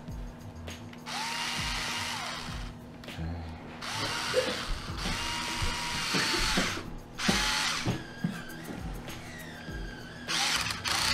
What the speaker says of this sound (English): I like to only put a small amount of torque on these guys and hand tighten them